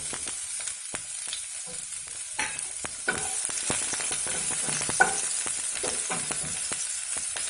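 Ginger and green chilies frying in a pan with hing for mirchi vada, a steady close sizzle broken by frequent crackles, pops and spatula scrapes, with no talking.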